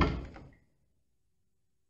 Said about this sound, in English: i will close the door again now.